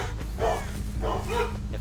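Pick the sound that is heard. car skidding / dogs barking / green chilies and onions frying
dogs barking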